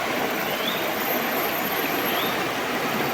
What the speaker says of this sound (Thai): เสียงน้ำไหลค่อนข้างแห้ง